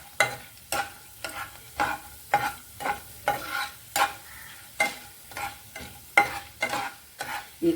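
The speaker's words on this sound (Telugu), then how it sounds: "రెండు ఎండుమిరపకాయలు, ఇవి కొంచెం వేగాలండి." Two dried red chillies frying in oil while being stirred, a quiet sizzle under a regular series of sharp metallic scraping strokes, about ten in a steady rhythm, close and without talk.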